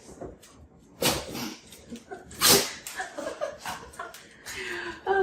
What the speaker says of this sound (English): You heard the sneezing, that was him.